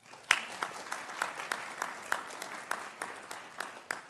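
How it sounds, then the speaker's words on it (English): Audience at a business summit applauding, heard as quiet scattered claps with individual sharp hand strikes standing out, fairly distant and steady throughout. "Please, one more round of applause."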